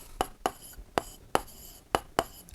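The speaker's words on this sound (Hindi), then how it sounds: "प्रकार को x पर रखकर एक चाप काटेंगे" A compass point and pencil scratching across paper in a geometry lesson, producing about eight evenly spaced sharp scraping strokes, close and distinct with no talk.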